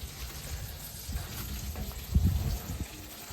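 Smoked spare ribs, membrane removed, flipped over on a hot grill, giving a steady close sizzle with a few heavier thumps and spatters partway through.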